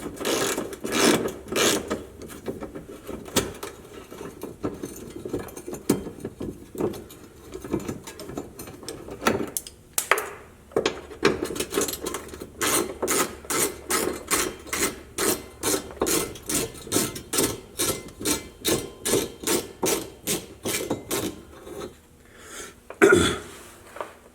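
A ratchet wrench removes 10mm bolts from a Jeep JLU track bar bracket, its rapid clicking bursts repeating close by in a steady rhythm, with brief pauses and a cough between.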